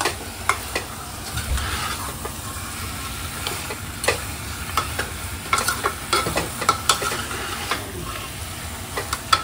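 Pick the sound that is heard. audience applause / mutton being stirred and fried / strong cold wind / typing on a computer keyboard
mutton being stirred and fried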